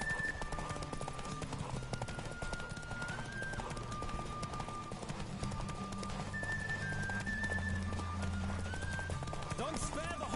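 Roach the horse galloping in The Witcher 3, hooves clip-clopping in a steady rhythm beneath game music tones and ambient sound, with occasional snorting; voices talk over it throughout.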